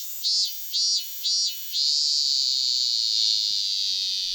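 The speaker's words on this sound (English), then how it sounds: "The cry of the cicada makes one think of summer" A cicada buzzes loudly in summer, first in three short pulsing bursts and then in one sustained, high, shrill drone up close.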